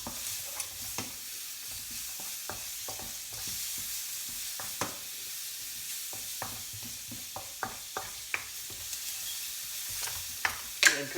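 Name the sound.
prawns stir-frying on high heat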